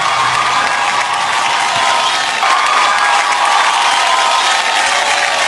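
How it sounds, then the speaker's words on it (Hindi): Loud, sustained audience applause and cheering for Jacqueline at a televised star awards show, a dense wall of clapping with crowd noise and occasional whoops throughout. "जैकलिन के लिए जोरदार ताली हो जाए एक बार."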